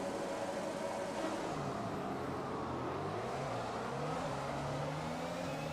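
An F1 2021 race car launches off the start with wheelspin, its engine note climbing and wavering steadily as it accelerates, loud and close with no voices.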